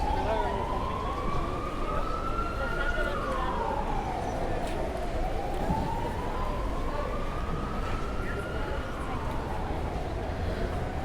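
An ambulance siren wails steadily in a slow rising and falling sweep, moderately distant, over continuous street noise in Palma de Mallorca.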